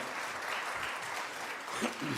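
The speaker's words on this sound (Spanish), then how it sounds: "Fuertes aplausos." A church congregation at a Spanish-language worship service breaks into strong, sustained applause, a dense wash of clapping that stays steady throughout with no voices over it.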